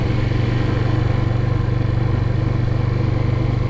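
Suzuki TU250X single-cylinder motorcycle rolling slowly through a quiet neighborhood in second gear, a steady low thrumming engine pulse heard up close and loud, with no voices over it.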